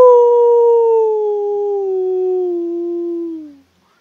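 A pet in Roblox Adopt Me lets out a single long, clear howl that holds steady and slowly sinks in pitch before cutting off, loud and close with nothing else around it.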